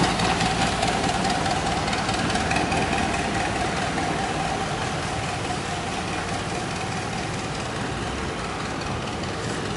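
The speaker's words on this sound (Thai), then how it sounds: "มีเรือผ่าน" Steady rumbling drone of a passing boat's engine, a continuous mechanical hum with light knocking, holding fairly even and slightly fading toward the end, with no voices.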